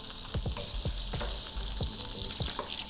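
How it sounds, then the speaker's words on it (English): Steady hiss of hot oil sizzling with chili and Sichuan peppercorns, with a few soft scraping knocks from a utensil spaced through it. "give that a little bit of a sizzle"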